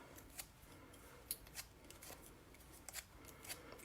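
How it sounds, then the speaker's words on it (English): Punched paper daisy petals are curled with a bone folder, giving faint, quiet scraping and crinkling strokes in a scattered, uneven rhythm with no talking. "Right in the center, you're going to curl all of the petals with the bone folder."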